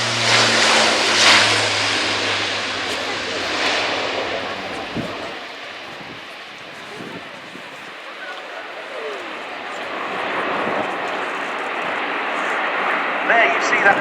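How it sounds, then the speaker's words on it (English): An Airbus A400M Atlas military turboprop transport rolls and takes off at an air show, a broad roaring engine drone that swells, dips, then builds again, heard under a commentator's steady talk. "So, rolling now, the Airbus A400M,"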